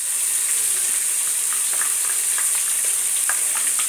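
Onions frying with mustard masala in a pan for Nepali fish curry, a steady close sizzle with scattered crackles and pops throughout, no voices.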